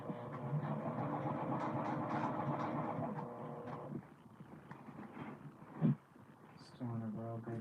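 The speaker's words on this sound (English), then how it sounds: "the machine is doing a good job in sewing through the bulkiness" A sewing machine stitches through thick, bulky stabilizer while a handmade duffel bag is assembled. The motor hum and rapid needle clatter run steadily, then drop off, with a brief thump before the stitching resumes. A voice may be talking underneath.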